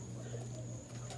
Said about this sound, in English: These are three young almond cockbirds from this year.